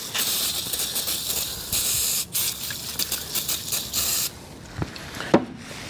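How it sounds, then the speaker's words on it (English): Brake cleaner sprayed onto a trailer spindle in long, steady hissing bursts with short pauses between them, followed by a few light clicks and taps near the end. "Some brake clean."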